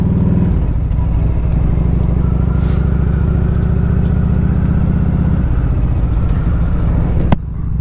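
An Evo Road King motorcycle on its first ride, its engine droning loud and steady close by with a brief drop in pitch partway through, as if shifting, and no talking.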